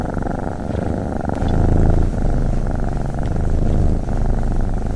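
A cat purrs continuously, a close, steady, rhythmic low rumble that swells slightly and keeps pulsing for several seconds, with no voices over it.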